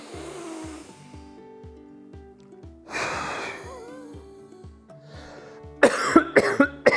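Deep, wet coughs during a breathing exercise to clear phlegm: a few strong hacking bursts near the end, close and loud, after quieter breathing with a melodic tone sounding in the background.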